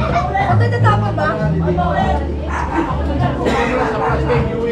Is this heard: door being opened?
no